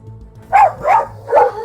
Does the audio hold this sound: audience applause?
no